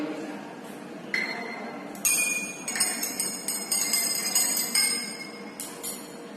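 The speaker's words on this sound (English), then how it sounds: "Again I stir it properly." A solution being stirred in a glass beaker during a school chemistry demonstration, giving a series of bright, ringing glass clinks and taps, some sustained, over a quiet background.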